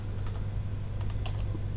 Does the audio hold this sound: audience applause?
no